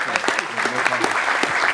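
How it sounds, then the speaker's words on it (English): Audience applause fills a hall at the ETHBoston closing ceremony, dense steady clapping for under two seconds with a voice talking over it. "Let's give him one more round of applause"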